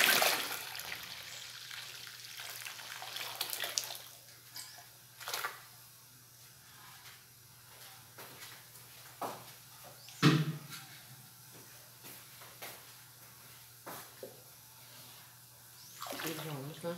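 Warm water runs and splashes into a container of homemade liquid soap, a steady gushing pour with occasional louder sloshes, heard under a person talking.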